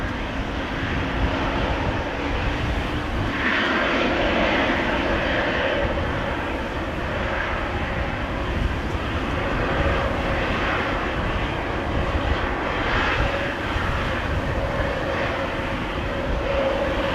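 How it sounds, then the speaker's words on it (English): Jet engines of a KLM Boeing 737-800 at Amsterdam Schiphol Airport on a windy day, a steady broad roar holding at loud level throughout without talk. "KLM flight 1313 now lining up. 737-800 to Warsaw."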